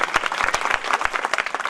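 A roomful of people at a teacher's farewell gathering claps steadily, a dense burst of applause with a few sharper individual claps standing out over about two seconds.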